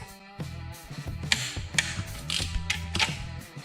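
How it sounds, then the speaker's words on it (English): A torque wrench tightening crankshaft bolts on a Cummins 8.3 6TA engine during a rebuild, heard as a series of close mechanical ratcheting clicks, with a few sharp bright snaps as each bolt reaches torque, and no talking. "We set the wrench. And we go one by one. I tighten them alternately."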